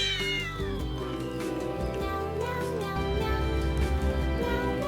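A kitten meows over and over in drawn-out, tonal cries that sit close and fairly loud, with a busy layered background running underneath throughout.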